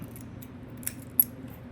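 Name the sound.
cutting Ethernet cable wires straight before adding RJ45 connector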